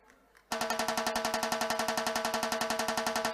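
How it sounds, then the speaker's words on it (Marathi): Rhythmic unison clapping from the audience at a prize-giving ceremony for a bhajan singing competition in Thane, starting abruptly after a brief quiet moment and continuing as a loud, steady, fast beat of claps. "जोरदार जरा टाळ्या होतील आमच्या या कार्यकर्त्यासाठी"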